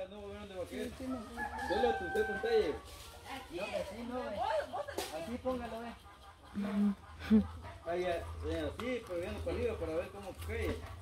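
A hen clucking and squawking mixed with people talking throughout, the bird calls close and agitated.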